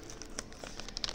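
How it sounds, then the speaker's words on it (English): Plastic packaging for a replacement LCD screen being ripped open, quiet crinkling and tearing with a few sharper crackles close by. "And to open it, you rip it up"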